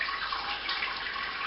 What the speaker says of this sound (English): that's filtering through nice and slow